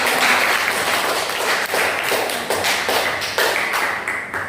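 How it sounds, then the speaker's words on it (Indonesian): Classroom of students clapping for a student group, a steady, close round of many hands applauding continuously with small swells and dips throughout. "Kalau begitu kita beri aplaus."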